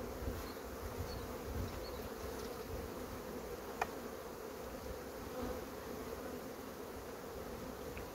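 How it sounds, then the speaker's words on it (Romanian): Dense, steady buzzing of many honey bees crowded two layers deep on a hive frame, a quiet continuous drone heard up close with no talking. "Două straturi de albină pe ramă."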